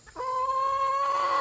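Backyard hen giving a single drawn-out clucking call, a close, loud, sustained tonal squawk that starts abruptly and holds steady for over a second.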